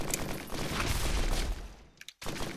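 Missiles firing in the video game Risk of Rain, a dense rattling barrage of blasts that ends in a brief silence before resuming.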